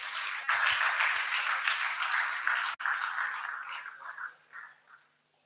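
Audience at a CBN fair event in Enugu bursts into a crowd's dense applause for a presenter, sustained for several seconds, dipping briefly, then thinning and fading out.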